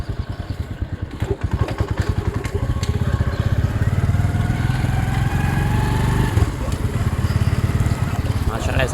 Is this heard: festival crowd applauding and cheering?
no